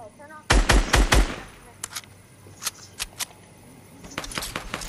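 Infantry rifle fire in a video game, with a tight burst of three or four loud, sharp shots, then scattered single cracks and a final rapid volley, separated by quieter gaps.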